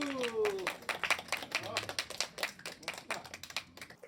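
Scattered, uneven clapping from a small audience at an art presentation, quiet and somewhat distant, with voices talking over and between the claps.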